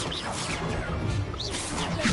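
A Confringo fire spell cast in a Harry Potter video game: a short, loud burst of rushing, crackling noise with swishing sweeps, filling the whole moment without a break.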